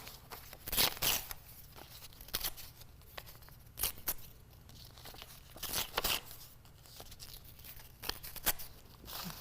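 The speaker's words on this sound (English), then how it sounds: "So I'm going to tear this apart" Paper being torn apart for an art journal, a series of quick ripping and crinkling bursts with short pauses between them, close and fairly quiet.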